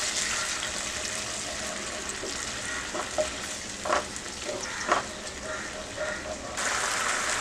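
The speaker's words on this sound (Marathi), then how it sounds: "1 मोठा चमचा रेड चिली सॉस, 1 मोठा चमचा टोमॅटो केचप, 1 मोठा चमचा सोया सॉस. परतून घेऊया हे सगळं." Red chili sauce, tomato ketchup and soy sauce are sautéed together in a hot pan, giving a steady hiss of sizzling with a few scraping stirs in the middle and the sizzle swelling louder at the end.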